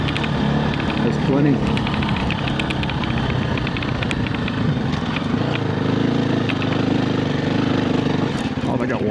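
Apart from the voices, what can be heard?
KTM 350 EXC-F dirt bike engine, throttle cracked in third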